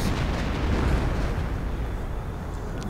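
Hummel artillery shelling in a strategy video game, a dense, continuous rumble of heavy booms and blasts, loud and low throughout the short stretch with no talking.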